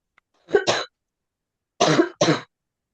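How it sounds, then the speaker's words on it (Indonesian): Two pairs of sharp coughs, close and fairly loud, separated by a pause of about a second, with no talking. "Baru batuk-batuk."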